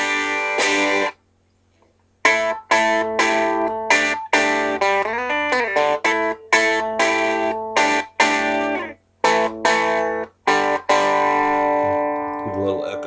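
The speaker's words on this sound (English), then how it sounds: "it's got the chorus on a little bit" An electric guitar with a light chorus effect plays a bluesy run of sustained notes and chords, shimmering and slightly warbling, with brief gaps between phrases and no talking.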